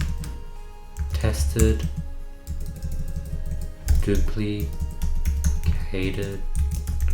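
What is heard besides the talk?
typing on a computer keyboard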